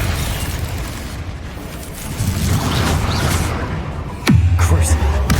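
Confringo fire spell blasts in Hogwarts Legacy boom through a rumbling din, ending in a sharp, heavy explosion that leaves a deep lingering roar, with a voice talking beneath the action.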